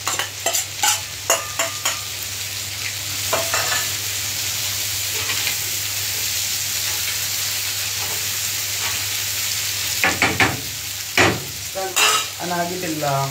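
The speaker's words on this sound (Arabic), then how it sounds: "هحط هنا البصل." Onions sizzle steadily in a hot pan, a continuous frying hiss with intermittent scraping and stirring clatter, louder bursts near the start and end, with no voice present.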